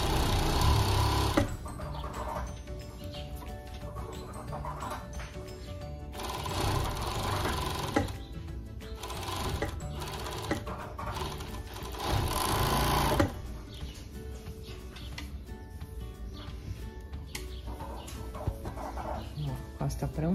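A sewing machine runs in bursts while a blouse seam is stitched from bottom to top, its fast mechanical whirr loud and close, with chickens clucking faintly in the background.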